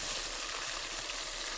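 Onions frying in hot oil in a wok, a steady close, dense sizzle with no talking.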